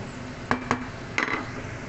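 Green long bean salad being tossed and mixed, with a few sharp utensil clinks against a bowl and soft stirring rustles, close and fairly quiet, no talking.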